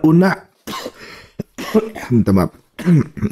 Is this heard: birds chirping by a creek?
no